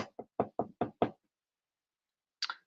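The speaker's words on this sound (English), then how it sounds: "Knock, knock." Six sharp knocks rap in quick succession, close and loud, followed by a silence and then two more quick knocks, with no voices.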